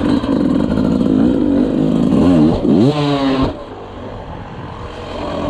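An enduro motorcycle on a home dirt track revs hard and close, the engine note rising and falling through quick gear changes, then dropping to a lower steady drone as the bike rides on.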